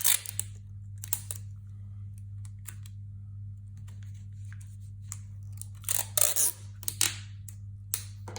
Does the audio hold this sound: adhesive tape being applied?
yes